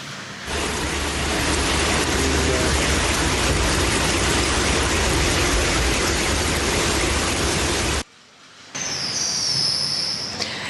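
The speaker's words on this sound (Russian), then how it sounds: "За несколько минут буквально небо потемнело, начался дождь и град." Rain and hail pour down outdoors in Krasnoyarsk, a loud, steady roaring hiss that cuts off abruptly near the end before a brief, thinner burst resumes.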